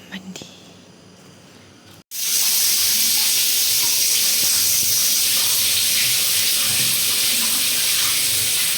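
Water gushes from a tap for a shower at a camp, starting abruptly after a quiet moment and then pouring loud and steady at close range until the end.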